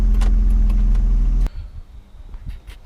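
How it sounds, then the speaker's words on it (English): A car engine idles steadily with a low, even hum for about a second and a half, after a rough idle that had been surging up and down, then drops away to quiet background. "now it seems to be idling steadily"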